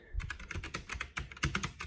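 Typing on a Tewell mechanical gaming keyboard: a quick, uneven run of close, crisp key clicks and clacks, with one heavier thud near the end, and no voices.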